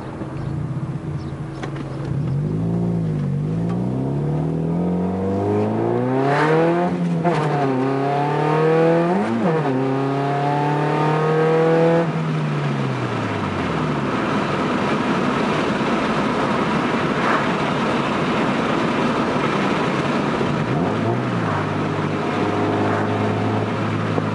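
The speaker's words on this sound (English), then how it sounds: "When I'm at wide open throttle." A car engine revving at wide open throttle while driving, rising and falling in pitch through several gear pulls, loud and continuous, then settling into a steadier cruising drone.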